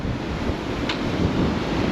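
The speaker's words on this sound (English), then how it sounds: "It's a bit windy." Steady, loud wind buffeting a microphone on the aft deck of the cruise ship Queen Anne, a continuous low rumble with a faint brief hiss in the middle, no voices.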